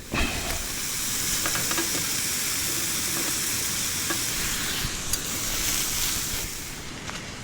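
Pan cooking on a camping cooker inside a tent: a continuous close sizzling hiss with faint roaring underneath and occasional small clicks, steady throughout and slightly fading at the end, with no talk.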